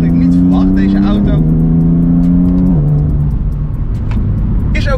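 BMW M4 CS fitted with an Akrapovic cat-back exhaust and lowered on H&R springs, its engine revving loud and close with a deep droning note that steps up through gear changes before settling into a steady roar.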